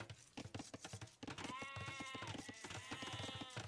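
Sheep bleating in a strategy video game match: a quiet, repeated wavering bleat, drawn out and then rising again, set among busy rhythmic game clatter and ambience, with no speech.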